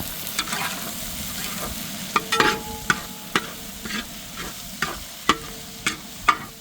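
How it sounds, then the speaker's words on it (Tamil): Sliced onions sautéing in a pan with salt added, for a dhaba-style Pahadi chicken gravy, a soft continuous sizzle punctuated by regular scraping stirs of a spoon against the pan. "வெங்காயம் நம்ம எதிர்பார்த்த அளவு நல்லா வதங்கி வந்துடுச்சு"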